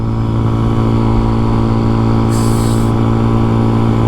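A CFMOTO Papio SS motorcycle engine riding uphill, a loud, steady, close drone held at even revs with a brief high whine partway through, no voices.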